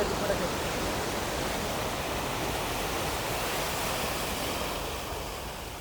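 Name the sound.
sea waves at Galle Face, Colombo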